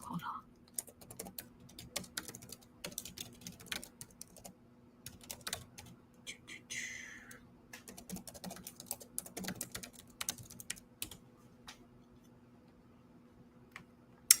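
Computer keyboard typing close up, with quick clattering bursts of keystrokes broken by short pauses and a final louder tap.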